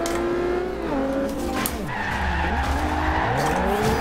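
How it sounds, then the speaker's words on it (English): Tires skid and squeal as a car drifts in Forza Horizon 2, played on a Thrustmaster TX wheel, with a steady engine drone under sliding pitch sweeps that run loud and continuous throughout. "We're gonna drift in this."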